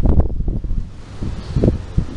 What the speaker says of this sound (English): It's really windy now, huh?